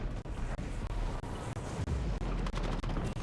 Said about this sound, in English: there was like explosions that was messing me up